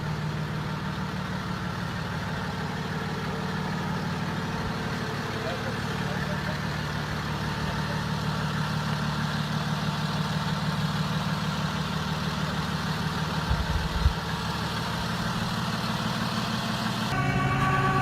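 A rollback tow truck's engine idles in a steady low drone while it pulls a 1924 Ford Model TT off a trailer onto its bed, with a brief rise near the end and faint voices in the background.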